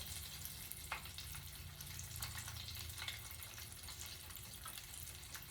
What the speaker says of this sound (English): And you let them fry until they're golden brown.